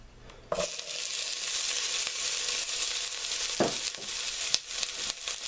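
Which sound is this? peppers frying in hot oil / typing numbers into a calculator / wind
peppers frying in hot oil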